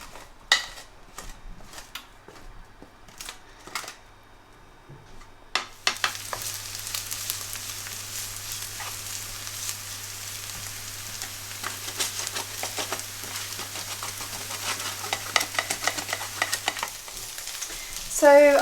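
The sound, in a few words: onions frying and being stirred in a pan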